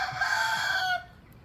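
Guinea hens call loudly and close by, one harsh, sustained, raspy cry lasting about a second before it cuts off to quiet.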